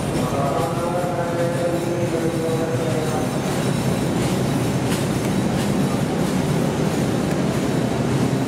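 Ex–Argo Bromo Anggrek carriages of a special charter train pull away in Indonesia, a steady loud rumble of wheels with rhythmic clickety-clack and faint squeals, continuous throughout with no talk.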